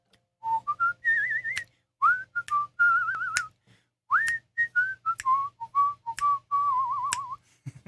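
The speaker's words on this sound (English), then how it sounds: "Yeah, I like whistling." A person whistles a bright melody in clear phrases with brief pauses, close and loud, a few sharp clicks in between.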